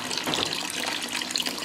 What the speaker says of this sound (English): You're going to let this run until out of the concentrate tube all the green liquid or some of the green liquid comes out.